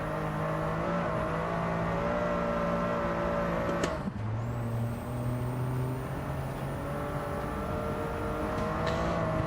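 A race car engine in a racing video game drones steadily at high revs, shifting pitch once partway through and settling into a lower tone, continuous and fairly loud with no voices over it.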